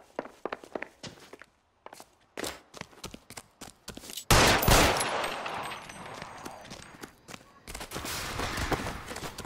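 Gunfire in the video game L.A. Noire, a run of sharp shots and footsteps followed by a loud burst of firing and a noisy crash, with a short gap of near silence.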